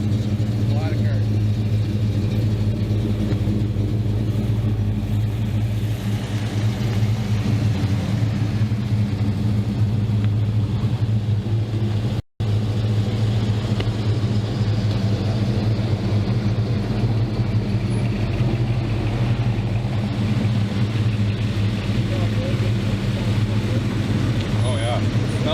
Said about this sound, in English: There's a ton of cars out there still.